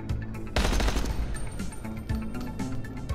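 Rapid automatic gunfire rings out from a gun in the video game Dying Light, a dense burst of loud shots followed by scattered further cracks and echoing reports.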